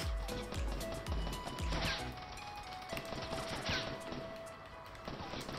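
Rapid gunfire in Fortnite Battle Royale, loud bursts of repeated shots with sharp impact cracks, packed densely across the clip against constant game sound.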